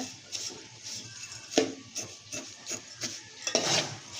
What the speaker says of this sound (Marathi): तुपामध्ये जर अशा हलक्या भाजून घ्यायच्या जास्त भाजायच्या नाही